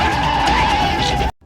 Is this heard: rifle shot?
no